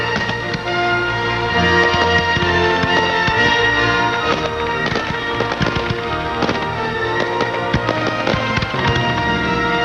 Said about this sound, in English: There's something kind of interesting when you see the fireworks go off